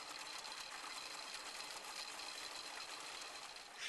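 A Vermeer rubber tire trencher runs its digging chain at mid-range speed for plunge cutting, giving a steady, dense mechanical roar that continues unbroken with no voices.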